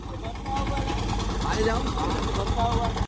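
A tractor engine runs in a farm field with a continuous low, throbbing rumble close by. People talk over the engine throughout.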